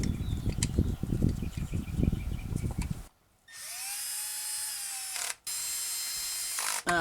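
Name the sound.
drill with clutch snugging down spark plugs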